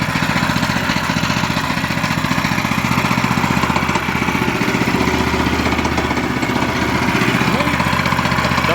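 A Mast Zipper wood chipper engine runs steadily after starting, a loud, even, buzzing small-engine drone throughout, with a voice speaking over it now and then.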